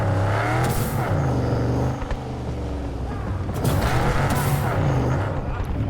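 A car engine in Cyberpunk 2077 drones and rises steadily as the vehicle drives and slides. Pitch sweeps up and down throughout, loud and close, with light creaks mixed in.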